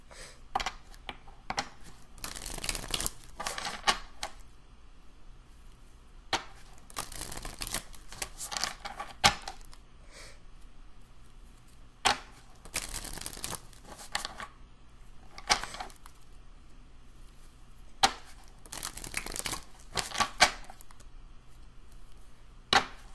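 A tarot card deck is split and shuffled by hand in crisp, riffling bursts of papery clatter, spaced irregularly across a quiet room, close and fairly soft.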